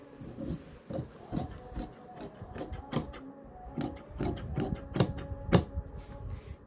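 Cloth for a child's kurta is cut on a table with scissors, producing a run of rhythmic crunching snips and rubbing strokes, close and fairly quiet with no talk.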